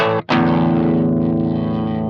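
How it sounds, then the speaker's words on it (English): An electric guitar played through a Simplifier DLX amp simulator on its clean setting: a chord struck, briefly cut, then struck again and left ringing with a loud, sustained, fading tone. "This is clean."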